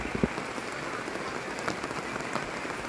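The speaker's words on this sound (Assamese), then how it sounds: "প্ৰথম এবাৰ মাঘৰ বিহুত বৰষুণ দি থকা বতৰ" Rain falls steadily on a surface during a Magh Bihu day, a soft even hiss with a few sharper drops and taps, with no voices.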